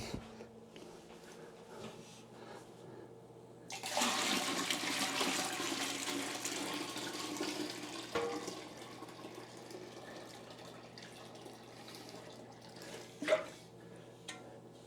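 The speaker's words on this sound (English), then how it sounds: "I'm going to dump the wort into the ice cold water." Wort pours into ice-cold water in a sudden, loud rush that lasts several seconds, then settles into quieter sloshing against a steady background hum.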